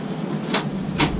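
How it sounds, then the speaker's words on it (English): A door slides or swings open with two short bursts of scraping and latch noise about half a second apart, close by and over a quiet room hum, with no talking. "Can you open the door, please?"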